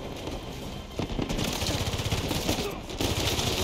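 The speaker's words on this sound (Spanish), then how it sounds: "¿Cómo no le pegan ni un balazo, Juan?" Dense gunfire in the video game Uncharted 4, rapid automatic bursts and single shots running continuously and loud throughout, with a busy game soundscape behind them.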